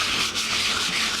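Close, steady abrasive rubbing of sandpaper on a wooden skateboard deck, a brief scratchy sanding stroke with a slight pause in the middle.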